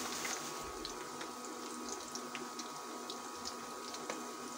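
Water trickles quietly and steadily from a tap into gram flour for Punjabi kadhi, with a few small splashes and clinks in a home kitchen.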